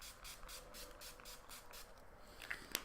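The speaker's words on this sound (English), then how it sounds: "Taking a long-lasting setting spray" A long-lasting makeup setting spray is misted onto a face in rapid pumps, producing a series of soft, rhythmic hissing bursts, close and fairly quiet.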